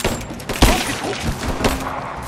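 Gunfire in Rise of the Tomb Raider: a loud burst of several heavy shots and booming impacts in an irregular cluster, close and punchy, over a rumbling combat backdrop.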